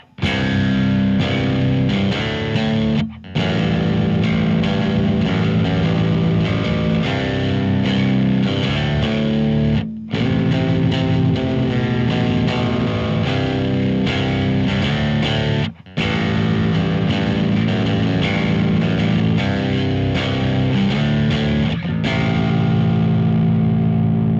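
Heavily distorted electric guitar chords chug loudly and continuously, thick and saturated, with a few brief cuts to silence between sections.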